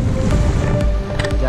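Sea waves wash onto a quiet, near-deserted beach at Shiraishi bathing beach in Obama, Fukui, with a loud, continuous rush of surf and wind buffeting the microphone close by, and no voices.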